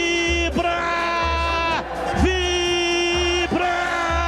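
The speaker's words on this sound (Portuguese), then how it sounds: "A torcida vibra." A stadium crowd of Guarani fans roars after a football goal, a loud, dense, continuous mass of voices with sustained, pitched yelling that rises and breaks off in repeated swells.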